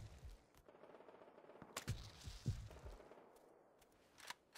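Scattered AK rifle shots from the Rust survival game crack out at a distance, a few separate bursts over a quiet outdoor background, faint and spaced irregularly.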